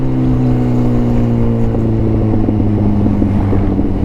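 A motorcycle fitted with an SC Project exhaust, a loud, close, steady engine drone with a strong low rumble and rising revs in the second half, no talking.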